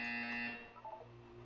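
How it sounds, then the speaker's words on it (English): A buzzer sounds in an Aperture Science video game test: one steady electronic tone that holds loud for about half a second, then fades into a quieter hum. "You will hear a buzzer."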